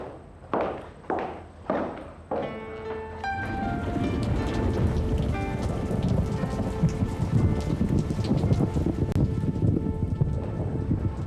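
Heavy rain pours steadily in a storm, preceded by several sharp knocking thuds, with dense rainfall hiss and a low rumble of thunder throughout.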